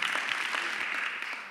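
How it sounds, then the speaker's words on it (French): Brief burst of audience applause in a French conference hall, steady moderate clapping from many hands throughout, heard alone. "je m'offre des applaudissements de façon un peu facile, un peu démagogique"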